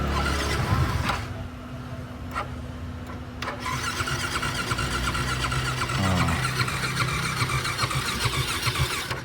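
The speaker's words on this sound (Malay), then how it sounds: "Kita start motor ni dulu." A motorcycle engine cranks and catches, then settles into a steady idle with a slight rev, heard up close and alone in a workshop setting.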